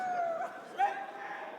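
A crowd at a BLAST R6 Copenhagen Major esports finals arena imitates dog barks, giving a few short yelping barks and howl-like calls over a noisy hall with voices.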